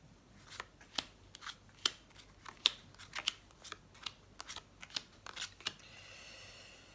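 Tarot cards are handled and flicked one after another in a quick irregular patter of crisp, close snaps, ending in a soft rustle.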